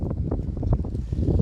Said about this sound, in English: damn you wind